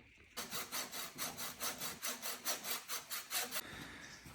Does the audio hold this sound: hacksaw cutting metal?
yes